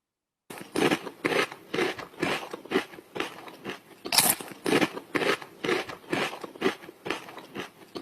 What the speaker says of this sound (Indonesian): kalau misalnya kacang kan kita biasanya makannya secara kriuk-kriuk